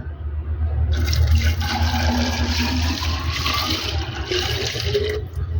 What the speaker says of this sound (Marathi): मी भरत आहे बॉटलमध्ये पाणी माटामधलं